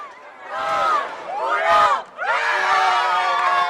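Crowds in a Spanish city shout and cheer at midnight to mark the end of the national state of emergency, the voices loud and swelling in overlapping waves of whoops close by.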